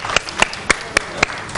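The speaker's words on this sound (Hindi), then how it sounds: "कंबर के लिए भी बहुत सी तालियां।" A few sharp claps ring out one by one at a steady spaced rhythm, close and fairly loud, over light background noise; a scattered cheer for Kambar on a Ramadan TV set.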